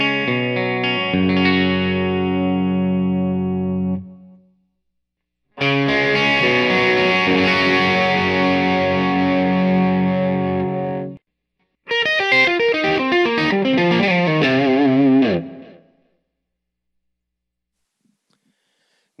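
Electric guitar through a Nova Drive overdrive pedal at setting number 9, three separate passages of distorted chords and riffs with a crisp, saturated tone, each ending abruptly into silence.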